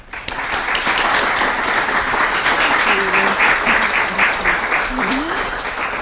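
A lecture audience in Oxford applauds to welcome the speaker, steady sustained clapping from a sizeable crowd that fills the room from start to finish.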